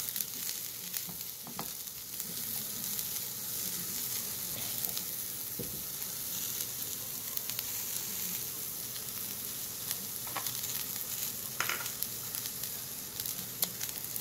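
Eggplant cooks in a pan with a faint, steady sizzle and frying crackle, occasional soft stirring clicks, no voices.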